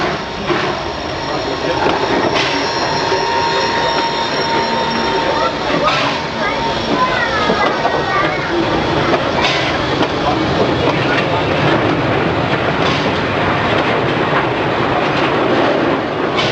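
A Y class locomotive rumbles steadily along the track with rhythmic wheel clatter and occasional metallic squeals, loud and close for the whole stretch.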